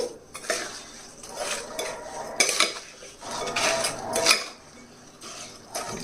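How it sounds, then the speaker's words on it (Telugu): Coriander powder and fish masala being stirred together in a glass while making korramenu fish pickle, heard as repeated close scraping and clinking of a spoon against the glass in short uneven bursts, with no talk. "ఇప్పుడు బాగా కలపాలండి"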